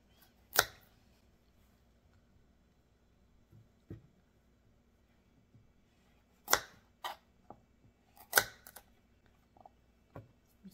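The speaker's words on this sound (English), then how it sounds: "So I'm going to cut the ends of the radishes off." A knife cuts the ends off radishes on a cutting board while taco relish is prepared: a handful of sharp, separate taps and chops, spaced irregularly and fairly close, with quiet gaps in between.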